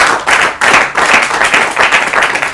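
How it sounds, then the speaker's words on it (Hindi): An audience at an Urdu literary quiz programme breaks into loud, close applause after a correct answer. The clapping is thick and sustained, with slight surges, and no voices are heard. "तो फिर ताली बजाइए"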